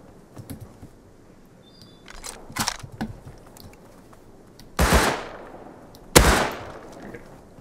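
Double-barrel shotgun in the survival game Rust, two loud sharp blasts a little over a second apart following a stretch of quieter clicks and handling noises.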